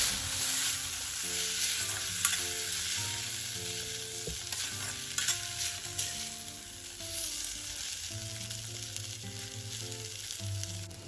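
Food frying in a pan sizzles continuously while a spoon stirs and mixes it, with repeated scraping strokes and soft knocks, close and steady with no talking.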